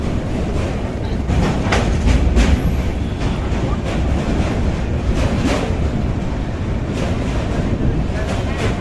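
Passenger train pulling out of Varanasi beside the Ganges ghats, a steady rumble with repeated clatter of wheels and wind buffeting the microphone from start to finish.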